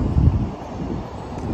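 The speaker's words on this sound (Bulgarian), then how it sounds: "Дъждът спря, но излезна много силен студен вятър" Strong cold wind in Lisbon buffets the microphone with a low, rumbling roar that swells and eases over a couple of seconds, close and blustery.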